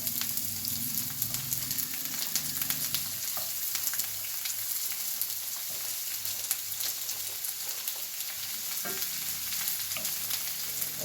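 Chopped onions fry in a small black pot, a steady bright sizzle running without break, with a few stirring clinks and scrapes along the way.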